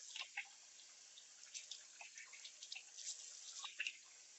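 Water at a bathroom sink as someone rinses their face, faint splashes and drips in soft irregular bursts, quiet and close.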